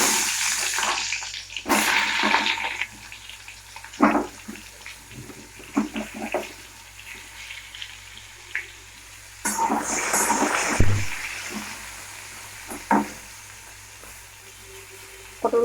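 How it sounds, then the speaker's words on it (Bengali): Pointed gourd (potol) pieces fry in hot oil with an uneven sizzle and crackle, broken by several clattering bursts and louder splashy surges, with no talking. "পটলগুলো ভাজা হতে হবে"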